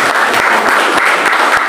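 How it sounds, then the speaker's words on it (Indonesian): A congregation applauding during a church service, a dense, loud wash of clapping from many hands heard close and continuous throughout. "Tepuk tangan buat Tuhan."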